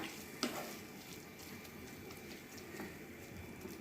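Grated coconut being mixed into cooked taro stems in a pan for a traditional Kerala thoran, a soft, steady scraping and stirring with a faint sizzle, one brief clack near the start, no talking.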